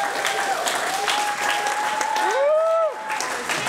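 Crowd cheering and applause at an MC rap battle, a loud, continuous roar of clapping and shouts with a whistle-like rising tone near the middle.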